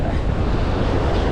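Ocean waves wash in a loud, steady roar of surf, with no speech heard.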